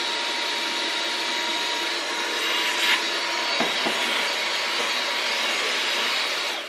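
A cordless stick vacuum cleaner runs steadily at max suction, a loud continuous whine and rush of air with a couple of brief bumps partway through.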